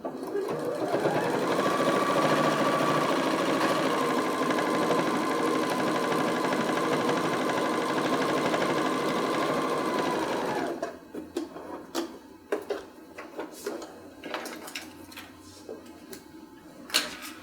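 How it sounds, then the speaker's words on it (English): A sewing machine top stitches a bag with a steady, close mechanical whir for about ten seconds, then stops, leaving scattered handling clicks and rustles. "Continue on top stitching."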